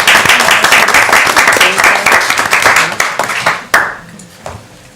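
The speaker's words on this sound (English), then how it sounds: "Come on, we gotta clap." Loud, close clapping from an audience at a school board meeting runs for several seconds, then thins out and fades to a few scattered claps.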